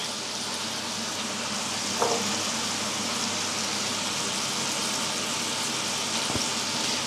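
Dried fish (tuyo) frying in a pan gives a steady, soft sizzle and crackle throughout, with a brief clink of utensils near the start and a small knock near the end.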